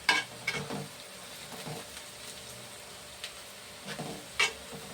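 Oil sizzles and crackles quietly in a pan on the stove, with soft scattered pops and a few scraping stirs, with no talking.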